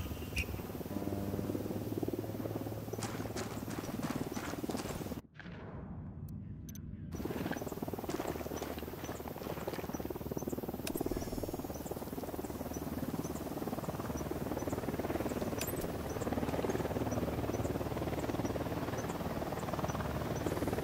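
A helicopter flies in Ghost Recon Wildlands with a steady, loud rotor drone and whine that runs almost unbroken, cutting out abruptly for about two seconds partway through and then resuming.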